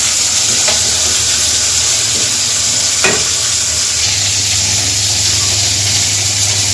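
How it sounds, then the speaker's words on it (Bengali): Steady frying sizzle with a dense hiss, broken by a few soft clinks of a utensil against the pan; no voices. "আর এদিকে মাছটা ভাজা ভাজা হচ্ছে"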